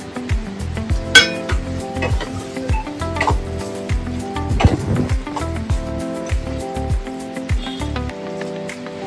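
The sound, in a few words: sautéing prawn thokku with mint and coriander in a pan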